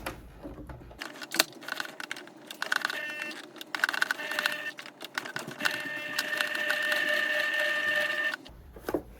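A sewing machine pushes slowly through a thick clump of jacket fabric for a McCalls 8011 misses' jacket, giving a close, busy mechanical clatter with rhythmic ticks that runs almost without a break for about eight seconds.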